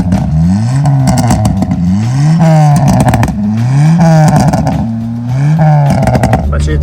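A car engine with a hard-cut rev limiter, fitted with a catalytic converter, revs hard in repeated rising sweeps that bounce off the limiter with stuttering clatter, loud and close for the whole stretch.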